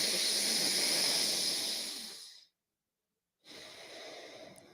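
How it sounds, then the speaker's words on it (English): Deep, forceful breaths drawn and pushed through the nose during breathwork training, a long loud airy rush followed by a second after a brief full silence. "Take 2 more deep breaths with me."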